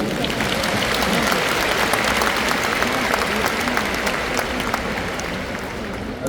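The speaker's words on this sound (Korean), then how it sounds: "우리 박수로 모시겠습니다." Broad, dense clapping from a large audience at a church denomination anniversary gathering, welcoming a pastor to the stage; loud, steady applause that holds for several seconds and eases slightly toward the end.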